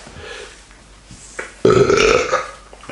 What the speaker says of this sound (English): Fucking burp.